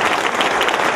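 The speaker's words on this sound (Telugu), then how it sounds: "ఒక 1 నిమిషం సేపు మనం చప్పట్లు కొట్టాలి" An audience at an Andhra Pradesh BC welfare association gathering bursts into applause, a dense, even wash of many hands clapping, loud and sustained for a brief moment.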